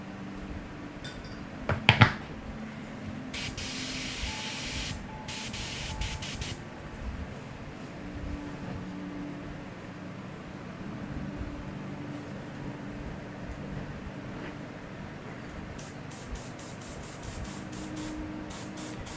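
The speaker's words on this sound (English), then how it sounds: "We're just spraying towards the tip of the horn there." Aerosol spray paint, a very dark brown, hisses onto the horn tip of a Khorne Slaves to Darkness miniature in several short bursts and one longer burst, with a couple of clicks from the can near the start.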